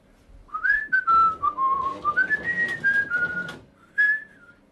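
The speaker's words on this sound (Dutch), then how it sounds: "En kunt u even fluiten?" A person whistles a wavering, slow melody up close, with a brief pause before one final high note.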